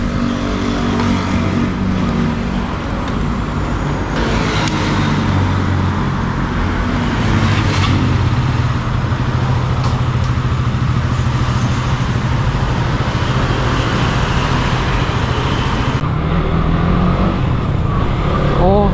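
A KTM 200 motorcycle engine drones steadily and loudly throughout the ride, with heavy road and wind rumble, while a rider talks over it.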